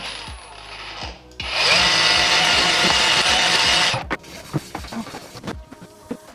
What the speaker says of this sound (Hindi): भाई एल्युमिनियम अभी बचा है, इस पर भी चेक करते हैं थोड़ी पॉलिश लगा के। और ये बफर